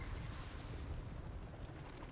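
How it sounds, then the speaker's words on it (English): A magma cannon hit in Total War Warhammer 3, a dense, rumbling explosive roar that stays heavy and continuous throughout, with no voices. "You got hit hard with the magma cannon there."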